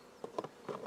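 Honey bees buzzing at the hive, a few faint, brief whirring passes close by with no talk.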